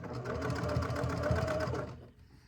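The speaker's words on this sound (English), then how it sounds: "So I'm going to stitch quite a ways and then turn, and stitch a ways and turn" A sewing machine stitches binding on a quilt hanger cover, a close rapid mechanical chatter running steadily for about two seconds before stopping.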